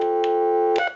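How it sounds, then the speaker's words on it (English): A repaired Spirit of St. Louis telephone speed-dials a stored number from memory, with a steady tone giving way to quick, loud touch-tone beeps, close and without talk. "And it's going to dial the number that we want back."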